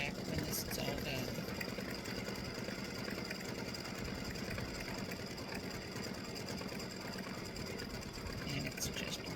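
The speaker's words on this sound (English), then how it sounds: "let it finish stitching all the game pieces" An embroidery sewing machine stitches Halloween tic-tac-toe game pieces with a continuous fast mechanical whirring and rattle, steady and fairly quiet throughout.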